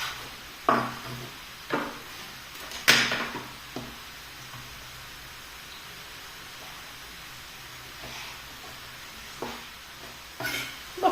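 Mushrooms and onion sauté in a pan for mushroom risotto, a constant close sizzle broken by occasional sharp scraping stirs, with no voices.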